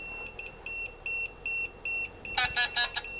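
Digital torque wrench signalling reached torque while tightening a cylinder head on a 1973 Ford F100 farm truck: a run of short, evenly spaced electronic beeps, then a louder rapid burst, close and clear.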